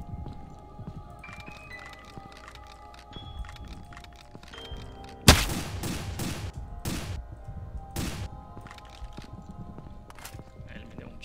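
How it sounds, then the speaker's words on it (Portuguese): Gunshots ring out in a video game, a sharp loud crack followed by several more separated shots over faint ambient background, after a quieter stretch of game sounds. "Ele me deu um tiro."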